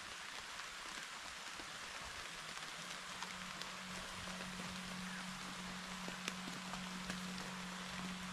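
Rain falling steadily as a dense, faint hiss of drops on surfaces, with a few sharper drips and a low hum appearing partway through.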